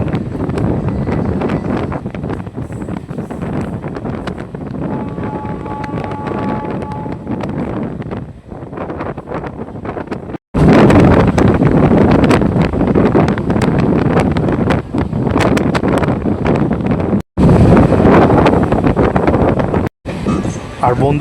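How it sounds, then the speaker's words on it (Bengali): A passenger train on the Howrah–Purulia route via Mashagram runs through Madhusudanpur station without stopping, heard from aboard as a loud, steady rumble with heavy wind buffeting and a voice talking intermittently. "ট্রেন এখন স্কিপ করছে মধুসূদনপুর"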